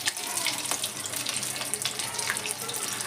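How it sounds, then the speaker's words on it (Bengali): Cheese potato balls deep frying in hot oil, giving a steady, dense hiss and bubbling throughout with faint crackles, fairly close and loud, with no talking. "খুব সাবধানে হালকা হাতে ভাজবেন"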